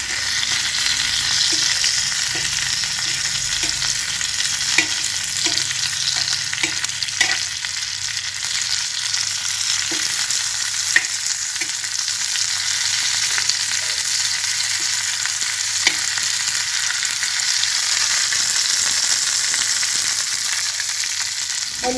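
Rava-coated fish pieces sizzle steadily in a frying pan as they are turned, a continuous close hiss punctuated by light, regular taps and scrapes of a spatula against the pan.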